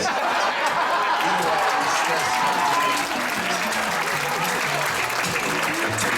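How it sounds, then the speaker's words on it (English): Audience applause at a live Christian music concert in Stroudsburg, Pennsylvania, a steady wash of clapping from a crowd that holds evenly for about six seconds, with faint cheering mixed in. "One mom always starts the clap."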